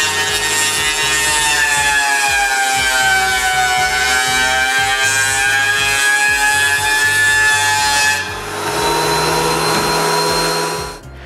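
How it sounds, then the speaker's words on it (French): Pieces of wood run through a thickness planer in a woodworking shop, a loud, steady, continuous roar of cutting that drops briefly as one piece exits and then resumes. "j'en passe quelques-uns dans la raboteuse."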